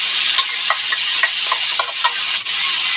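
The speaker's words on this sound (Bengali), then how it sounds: "এটাকে 2 চামচ তেল দিয়ে ভালো করে ভাজা ভাজা করে নেব" Food frying in a little oil in a pan, a constant bright hiss with soft, irregular crackles and scraping taps, close and with no voices.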